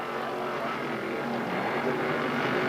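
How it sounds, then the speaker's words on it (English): A 1989 Formula race car onboard on a race circuit, engine drone steady and loud with shifting harmonic tones as it downshifts and brakes into a corner, the whole clip filled by close mechanical noise. "He's cleanly by, downshifting, breaking into corner 3."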